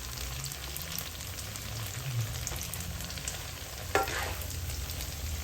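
Vegetable egg rolls (lumpia gulay) frying in hot oil, a steady broadband sizzle and crackle throughout with a brief sharper pop near the end, close and moderately loud, no talking.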